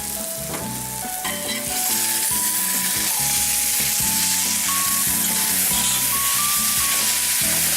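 Broth ladled into a sizzling mushroom risotto of rice and porcini, then stirred; a steady close frying hiss runs throughout, with spoon scrapes and small clinks over low background tones.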